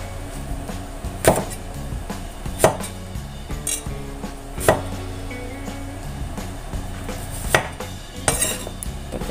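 A knife slices vegetables for sayur asem bening on a board, with a few sharp, separate cuts spaced a second or two apart over a steady low background hum.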